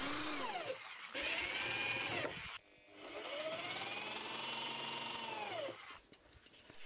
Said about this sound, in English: Push it in around 1 inch from the edge and screw it in place.